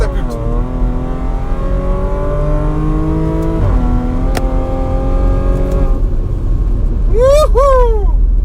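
Stage 3 ethanol-fuelled Audi S5 of about 530 hp accelerating hard out of a curve, engine note climbing through the revs, a brief gear change, then a sharp rev spike near the end, loud and close with a voice talking over it.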